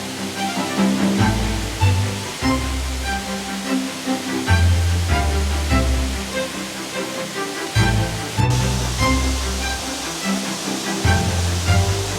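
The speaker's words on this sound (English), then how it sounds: "here it is, the fabulous waterfall of the Chateau" The waterfall at the Chateau in Nice pours in a continuous, loud hiss, heard beneath steady background music throughout.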